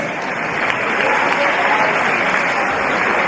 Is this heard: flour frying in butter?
no